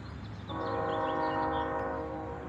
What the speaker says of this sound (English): So there's the train whistling for Gateway Drive